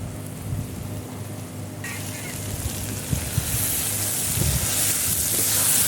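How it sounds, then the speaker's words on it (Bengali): Pigeon meat sizzles as it is sautéed in a pan at an outdoor village cooking spot. A soft hiss suddenly swells into a louder, crackling sizzle, with occasional low knocks from stirring and no speech. "একসঙ্গে এখন সুন্দর করে ভালো করে কষিয়ে নেব যতক্ষণ না মাংসটা সেদ্ধ হয়ে যাচ্ছে।"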